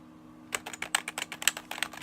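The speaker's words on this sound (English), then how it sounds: "it's rubber dome, but it's pretty darn good rubber dome keyboard" Keys clatter on a Keytronic rubber dome computer keyboard, a quick irregular run of about a dozen soft clicks close by, after a brief quiet start with a faint background hum.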